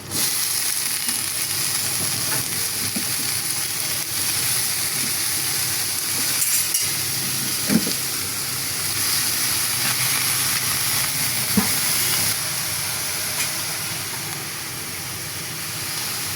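Snake gourd with onion and green chili frying in a pan gives a continuous loud sizzle and hiss, with a few faint clinks over the top.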